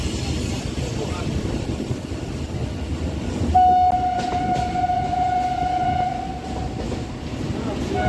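A train crossing the Kathgola rail bridge on the Kolkata Circular Rail line, a constant heavy rumble with a long train horn blaring partway through, loud and close.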